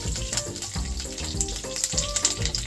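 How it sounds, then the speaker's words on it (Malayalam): Curry leaves crackle and sizzle in hot oil with fenugreek seeds for a Kerala-style tuna curry, with close, irregular popping bursts and spitting over a continuous frying hiss. "അതിലോട്ട് കുറച്ച് കറിവേപ്പിലും കൂടെ ഇടാം."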